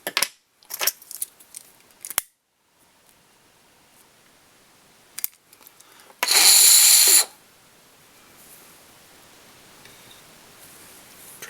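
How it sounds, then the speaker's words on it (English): A few sharp scissor snips sound close up as thread is trimmed on a Templedog salmon fly, followed by a brief loud hiss and then near silence. "take our scissors and trim"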